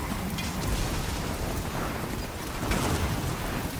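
Dense rain and low thunder rumble from a storm in the video game Death Stranding 2, a brief continuous wash of downpour with deep booming underneath, fairly loud and close.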